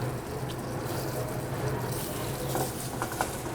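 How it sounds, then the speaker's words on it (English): Crumbled pork sausage frying in olive oil in a hot sauté pan over high heat, giving a steady, faint sizzle with occasional stirring scrapes and small pops. "let some of the fat from the pork sausage render into the olive oil"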